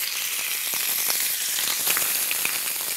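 Dry squid sizzling on a hot grill pan with a little olive oil, a dense crackling hiss with scattered pops and spits, steady and close, with no voices.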